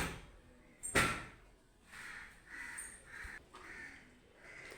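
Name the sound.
crows cawing at rooftop food offering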